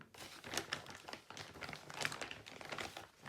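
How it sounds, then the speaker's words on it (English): A plastic bag holding thrift store flashcards crinkles steadily and close up, a dense, continuous rustle of handling that runs for a few seconds. "Sorry for the crinkling."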